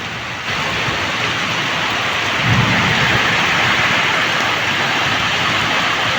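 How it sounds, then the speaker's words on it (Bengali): Heavy rain pours down at night outside a wedding house gate, a dense, steady hiss and roar throughout, joined midway by a deep, rolling thunder rumble that swells and lingers under the downpour. "আকাশ ফুটতেছে অনেক জোরে"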